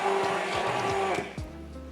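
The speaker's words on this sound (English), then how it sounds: "I'm gonna use an immersion blender because I don't want any chunks of protein" An immersion blender whirs steadily while mixing protein powder into a drink in a home kitchen, close and continuous for most of the clip, with a brief drop as the blade shifts.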